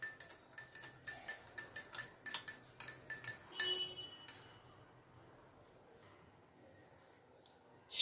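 A spoon clinks rapidly against a glass while stirring amla sherbet mixed with cold water, giving a quick run of bright taps for a few seconds before it falls quiet.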